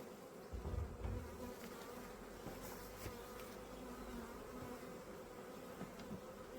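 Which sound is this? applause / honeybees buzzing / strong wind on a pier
honeybees buzzing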